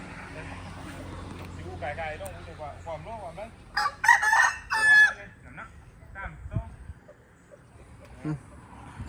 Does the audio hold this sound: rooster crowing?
yes